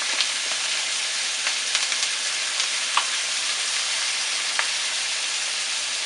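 Shrimp frying in oil and butter in a pan, a loud, even, hissing sizzle that holds steady throughout, with a few faint crackles and pops, close and without talk.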